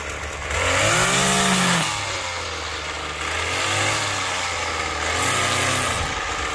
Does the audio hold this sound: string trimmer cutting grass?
yes